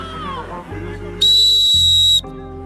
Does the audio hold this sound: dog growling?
no